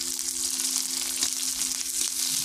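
Crushed garlic and onion frying in hot oil in a wok, heard as a soft, even sizzle that runs the whole time under a faint steady hum.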